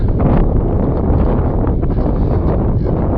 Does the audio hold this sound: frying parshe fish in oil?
no